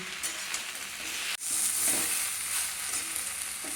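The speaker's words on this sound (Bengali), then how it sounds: "নেড়ে চেড়ে একটু ভাজা ভাজা করে নেব" Ash gourd greens and green chillies sizzle and crackle in a hot pan, with a brief scrape of stirring partway through; steady and close, no voices.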